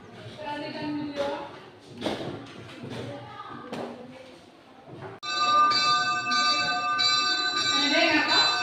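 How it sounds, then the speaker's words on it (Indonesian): Voices talk over muffled clatter, then a church bell rings out loudly, its rich overlapping tones sustained and swelling through the rest. "Merupakan video lonceng gereja."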